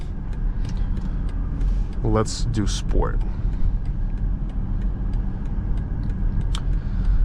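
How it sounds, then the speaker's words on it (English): A 2024 BMW X7 xDrive40i on the road, its engine giving a soft, steady low rumble under continuous road and cabin noise, while a voice speaks briefly partway through. "The engine note is pleasant. It's not loud, but you can hear a little bit of the rumble."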